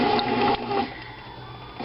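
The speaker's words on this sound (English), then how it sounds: "now I'm going to hit the stop start so that the bread machine will do the punch down" Hamilton Beach bread machine kneading peanut butter sandwich bread dough during the punch down cycle, a close, steady motor whir with a rhythmic mechanical pulse.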